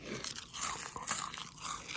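Crunchy chips are bitten and chewed up close, a run of sharp irregular crunches over a couple of seconds with no speech.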